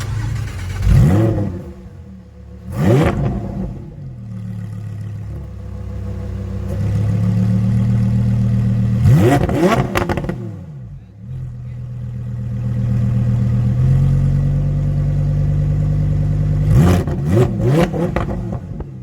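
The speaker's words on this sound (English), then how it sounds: "press this button to start the car like this. Okay, try to hear the sound, guys." Lamborghini Huracan Evo engine starting with a sharp bark, then settling into a deep idle broken by several loud revs that rise and fall, close and clear with no talk.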